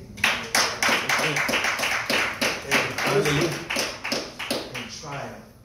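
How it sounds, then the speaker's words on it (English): Church congregation claps in praise, a fairly even series of loud hand claps repeating roughly every half second or so, with voices mixed in beneath the rhythm. "Give the Lord a hand clap of praise."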